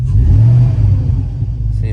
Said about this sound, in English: I'm gonna go to a muffler shop right now so they could install a new exhaust on it, because it rings in your ear for a long period of time.